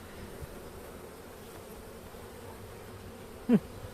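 Anatolian honey bees hum softly at the hive after winter, a faint steady drone with one brief louder buzz near the end as a bee passes close.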